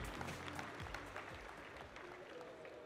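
An audience applauds an award winner at the CFIA Trophées Innovation 2018 ceremony, a brief burst of dense, steady clapping from a full room.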